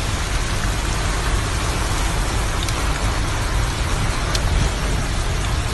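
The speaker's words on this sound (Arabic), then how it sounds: "ما شاء الله امطرنا بفضل الله ورحمته" Heavy rain pours down steadily and loudly during a flood in Kuwait, making a dense, unbroken hiss of drops on surfaces.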